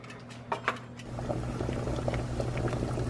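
Eggs bubble in a pot of salted water at a steady boil, a close, continuous gurgling simmer with a few small knocks at the start.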